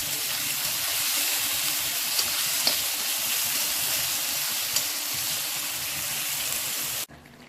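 Onions hit hot oil in a pan of whole spices and frying marinated chicken, giving a steady, close sizzle and hiss that carries on for several seconds before stopping abruptly.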